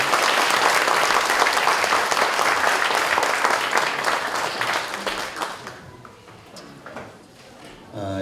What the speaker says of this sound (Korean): 아이들에게 한 번 더 우리 뜨거운 박수로 격려드립니다.